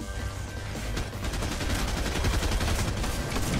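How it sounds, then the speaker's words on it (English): Sustained, dense gunfire from a video game battle, with sniper rifle shots among it, a continuous rattling barrage that stays steady and fairly loud throughout. "I think it's a sniper"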